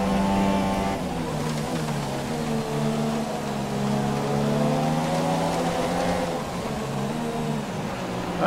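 Formula 1 cars race in the video game F1 2017, a loud, steady high-revving engine whine with shifting pitch and a passing car, continuous throughout.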